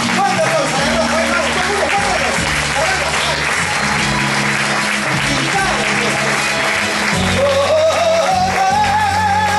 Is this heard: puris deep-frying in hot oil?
no